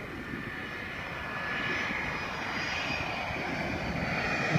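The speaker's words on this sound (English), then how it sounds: "this is the approach to the Corfu International Airport" Airliner on landing approach to Corfu International Airport, heard from inside the cabin: a continuous broad engine roar with a steady whine on top, swelling slightly louder as it goes, no voices.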